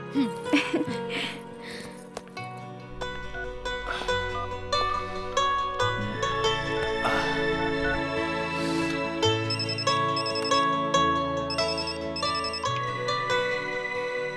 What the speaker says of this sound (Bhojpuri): आदि प्रिया तू हमार फोन काहे ना उठावत रहलू?